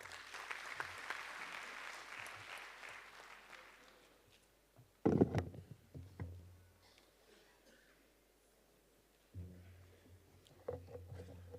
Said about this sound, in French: M. Oumar Ba, sous vos applaudissements.